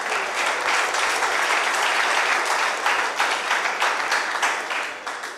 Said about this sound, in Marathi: टाळ्या, खरंच टाळ्या.